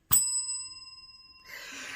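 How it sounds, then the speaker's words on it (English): A single bell is struck once and its bright ringing tone sustains and slowly fades over about a second before a burst of soft rustling noise, marking a finished cross-stitch project. "Well, ring that bell."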